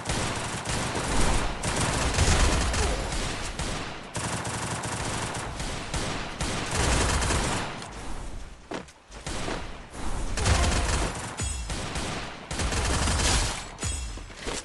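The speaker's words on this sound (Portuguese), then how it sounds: "Eu só tava atirando" Dense video game gunfire, with nearly continuous loud automatic shooting and overlapping shots and impacts, broken by brief pauses, close and filling the whole span.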